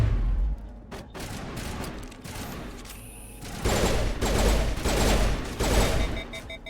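Sustained rapid weapon fire in the Mass Effect video game during a combat fight, dense bursts of gunfire with impacts and booms that swell louder in the second half, close and loud throughout.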